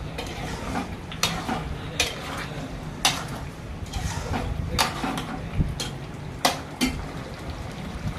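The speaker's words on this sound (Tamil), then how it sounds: "முட்டை சேர்த்து நல்லா கிளறி விட்டுடலாம்." A spoon stirs egg into thick potato gravy in a pan, scraping and tapping against the metal every second or so over a soft, constant background hiss, close by and without speech.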